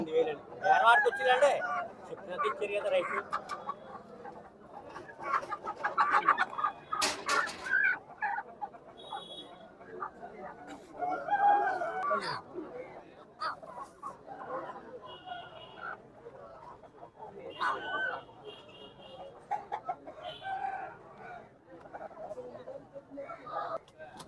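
Country chickens at a Saturday village fowl market cluck and squawk in short scattered bursts, some close and some farther off, amid frequent conversation and bargaining voices.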